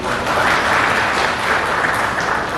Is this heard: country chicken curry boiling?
no